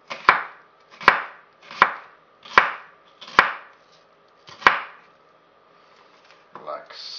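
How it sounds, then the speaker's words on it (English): A very sharp knife chops onion finely on a board in six crisp, evenly spaced strikes, each ringing briefly before the next, close and alone, with a short murmur of voice at the end. "with a very sharp knife, we cut the onion very, very fine"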